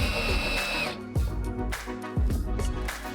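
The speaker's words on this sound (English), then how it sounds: "Secure them using the self-drilling screws." A power drill whirs in short bursts, revving and winding down several times as self-drilling screws are driven through a filter box into brackets, close and loud with no speech.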